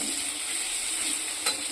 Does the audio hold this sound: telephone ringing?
no